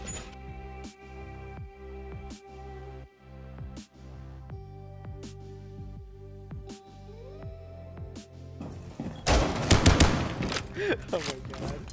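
Gunfire in Rainbow Six Siege, a burst of loud rapid shots near the end after a stretch of music and game sounds, with excited talk in the background.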